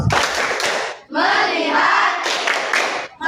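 A school class claps together in a quick, steady rhythm, with a brief pause midway before the clapping resumes; no talking.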